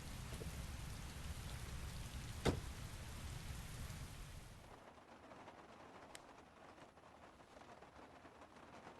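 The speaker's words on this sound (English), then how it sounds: "that's the rain sound is very satisfying" Steady rain falls in the video game Heavy Rain, with a sharp thud early on. The downpour thins and softens partway through and continues faintly.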